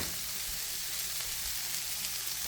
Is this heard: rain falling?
no